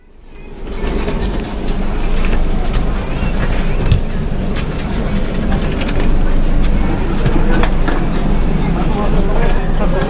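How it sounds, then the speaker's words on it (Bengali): Inside a Duronto Express train slowing to a stop at New Delhi station, loud steady rumble, wheels clattering and the carriage rattling, with voices murmuring faintly beneath the noise. "এই 11টা 5 বাজছে, ট্রেন থেমে যাচ্ছে।"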